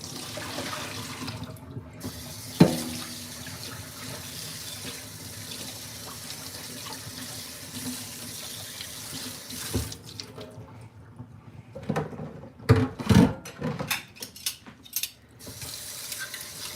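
Water running from a kitchen sink tap while a container is emptied into the drain, a steady close splashing flow with a few louder splashes and clatters near the end.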